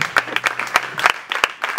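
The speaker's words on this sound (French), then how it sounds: "On peut applaudir pour la parole de Dieu." Church congregation applauding during a service, a quick burst of scattered claps with uneven rhythm, fairly close and loud, with no one speaking.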